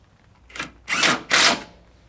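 Metal bracket bolt being threaded back into its factory hole on a second-generation Chevrolet Colorado/GMC Canyon truck, heard as three short close ratcheting bursts, the last two longer and louder, with no talk.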